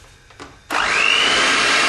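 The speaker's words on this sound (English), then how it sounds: "and then give it a little whisk." An electric whisk starting up to mix flour into pumpkin batter for a chocolate-filled cinnamon pumpkin roll, a sudden loud, close motor whir that rises in pitch and holds steady after a couple of faint clicks.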